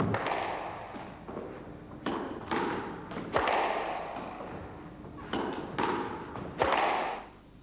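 A squash ball is struck with a racket against the court walls, giving a series of hollow thuds and bangs spaced irregularly across a practice rally, with no talk.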